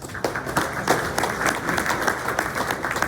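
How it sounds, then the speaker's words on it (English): Steady applause from a sizable crowd, continuous and fairly close throughout the short stretch. "Let's give them a round of applause."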